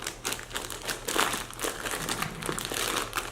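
Air being squeezed out of a zippered rifle stock toe bag, a steady crinkling, crumpling rustle of fabric and filling pressed by hand, close up and continuous for a few seconds with no speech.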